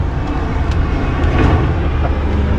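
Steady road traffic on a main road: a continuous broadband rumble and hiss of passing vehicles, fairly loud and unbroken, with no talking.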